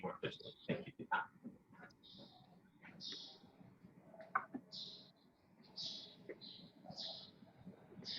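Birds outdoors chirping in short, repeated high calls, fairly faint and spread across the stretch, mixed with soft clicks and background noise from a remote lecture connection, with some talking.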